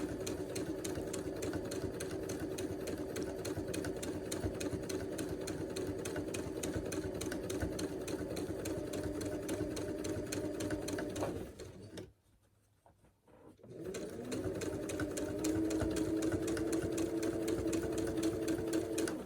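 A sewing machine top-stitches a fabric face mask, running a steady fast mechanical whir with a rapid stitching tick. It stops for about two seconds partway through, then starts again, with no voices.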